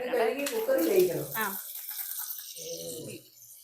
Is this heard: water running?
yes